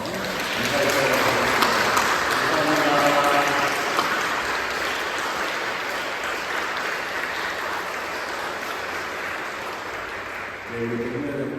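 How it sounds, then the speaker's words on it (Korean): Congregation at a Sunday church service gives warm applause to two women newly honoured as elder deaconesses, a full sustained clapping that swells early then holds steady, with a speaker's voice heard over it at the start and end. "우리 뜨거운 박수 다시 한번"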